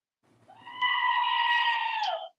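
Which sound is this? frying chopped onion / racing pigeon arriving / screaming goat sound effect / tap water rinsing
screaming goat sound effect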